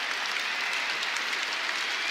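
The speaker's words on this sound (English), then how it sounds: "I think a standing ovation is happening here in the Royal Arena" An arena crowd at the Royal Arena in Copenhagen gives a standing ovation after an esports match, producing dense, steady, continuous clapping with no break.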